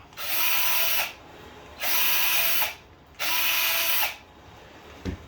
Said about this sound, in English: now I'm going to drill these holes out so the 4mm screw will pass through them